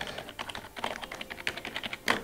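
Quiet, rapid typing on a Corsair K57 RGB Wireless membrane keyboard, soft muted keystrokes in a quick uneven run, close up and on their own.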